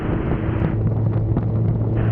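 Strong wind buffets a microphone with a loud, continuous low rumble. The roar is steady with some gusty fluctuation, and no voices are heard.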